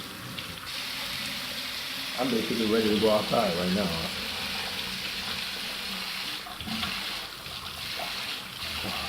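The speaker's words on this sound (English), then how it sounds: "The water's cold and hot. You do not want to put your hand in there." A tap runs with hot and cold water in a steady hiss, while someone talks briefly over it partway through.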